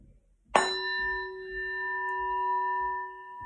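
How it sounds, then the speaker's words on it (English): A standing bell is struck once, ringing out with a sharp, bright attack and then a long, steady, shimmering tone that sustains without fading through the rest of the moment. "Bell, standing bell."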